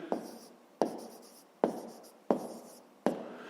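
Five sharp pen strokes tap down and scratch across paper at an even pace, each one starting with a crisp attack and trailing off, close and quiet while an answer to a fifth-grade maths exercise is written out.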